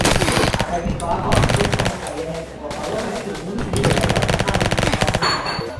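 Rapid automatic gunfire from a video game rattles loudly in sustained bursts with brief pauses, with a voice under the shooting.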